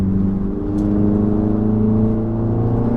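A Mini Cooper JCW, a light car, runs with its engine close and loud, a steady throbbing drone with rich low harmonics that holds throughout without talk.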